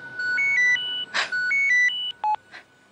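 A phone rings in a Hindi TV serial scene, playing a bright electronic melodic ringtone of stepped beeping tones, clear and close, with no speech over it.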